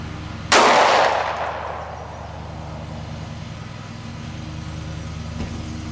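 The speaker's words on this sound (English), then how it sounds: "So we'll see what happens with shooting while standing." A single loud, sharp report from a Beretta Nano pistol fired by a standing shooter cracks close by, then decays into a long echoing tail. A low steady hum continues underneath afterward.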